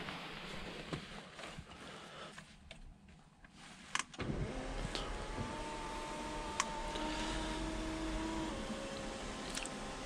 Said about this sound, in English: Just close the sunroof on this one.